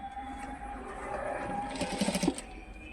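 A sewing machine stitches the side seam of a ready-made top, a short faint burst of rapid mechanical whirring that swells briefly near the end against a quiet room background.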